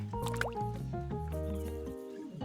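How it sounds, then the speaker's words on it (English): Plants being watered in the farming video game FourLeaf Fields: bubbly drips and liquid gurgles layered over steady in-game background music. "Let's go ahead and water our plants."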